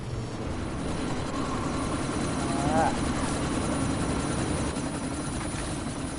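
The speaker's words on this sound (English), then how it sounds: "you need to disable that chopper" A helicopter in the game Deus Ex: Mankind Divided drones steadily at a distance through a sandstorm, a constant low whirring hum holding level under faint background noise.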